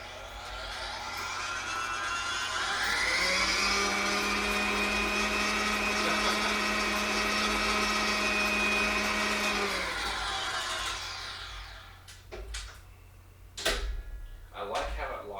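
A GE G8M planetary stand mixer runs steadily at high speed for about ten seconds, a loud, even whir that cuts off, followed by a few sharp knocks and clatters.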